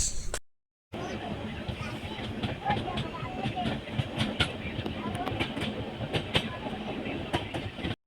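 Ambience at Kacheguda railway station: the rumble and clatter of a train with scattered clicks and knocks, crowd chatter and voices mixed in throughout after a brief dropout at the start.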